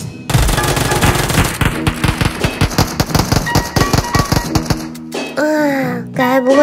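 Rapid bursts of UZI fire in the mobile battle-royale game Peacekeeper Elite, loud sustained automatic shots for about five seconds, then a short pause and a few electronic game effects.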